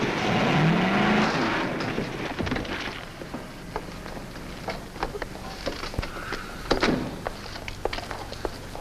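A car driven recklessly in a 1952 film roars past at speed with a revving engine, then thumps and rattles as it keeps driving roughly, fairly close.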